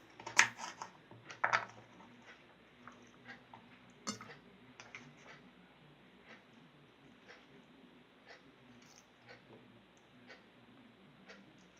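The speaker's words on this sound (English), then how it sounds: "Now the pear we cut in pieces." A knife cuts a pear into pieces on a board, giving a few sharp close taps at the start followed by sparse, quieter cutting clicks spaced out over a soft, steady background.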